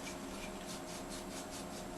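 Bare hands rub lubricant over a Beretta PX4 Storm Compact .40 caliber pistol, making a steady, soft close-up friction hiss with faint rhythmic strokes.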